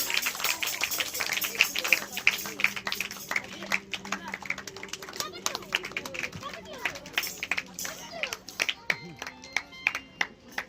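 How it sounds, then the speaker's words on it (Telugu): A crowd at a church foundation ceremony claps loudly in a sharp, dense burst that thins into scattered individual claps, with murmuring voices and babble underneath. "గట్టిగా చప్పట్లు కొడదాం."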